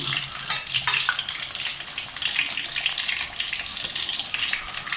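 Whole chicken drumsticks frying in hot oil in a pan, giving a continuous bright, bubbling sizzle with small crackles throughout.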